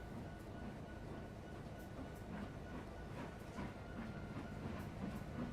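Steady rumble of a train rolling on rails in a railroad simulator game, modeled on a Virginian model railroad layout, with faint rhythmic clicks over the track and a continuous low drone throughout.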